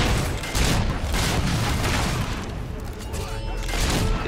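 Rapid gunfire bursts in the fantasy action game Fable 3, dense crackling shots and booms in a loud chaotic battle, with voices mixed underneath.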